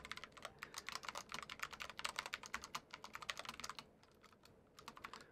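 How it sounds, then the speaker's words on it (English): Fast typing on a Cooler Master SK622 ultra-compact mechanical keyboard, dense crisp clicky keystrokes in quick bursts, close and clear, thinning out briefly before resuming. "let's do a typing test with this keyboard"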